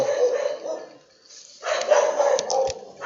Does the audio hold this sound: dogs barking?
yes